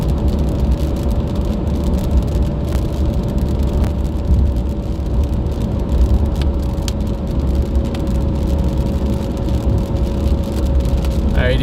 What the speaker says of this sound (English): Definitely coming into some more rain.